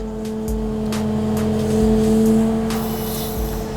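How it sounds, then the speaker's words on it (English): A Kubota KX085-5 eight-tonne excavator runs just after starting, a loud, steady diesel drone with a strong humming tone that swells slightly midway and continues without speech. "Now the excavator is started"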